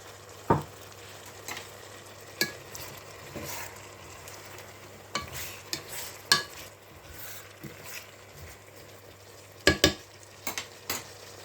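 A kilogram of large chopped onions softening in a pan, a low steady simmer broken by scattered sharp scrapes and clinks of a spoon stirring against the pan, with no talking.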